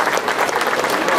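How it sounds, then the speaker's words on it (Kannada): Audience applause at a community Deepotsava celebration, a short burst of dense, steady clapping from a crowd with some voices mixed in. "ಮತ್ತೆ ಚಪ್ಪಾಳೆ ಬರಲಿ"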